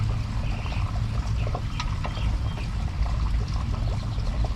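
Engine oil drains steadily from a Honda V6 into a drain pan, a continuous low pouring trickle running throughout without pause.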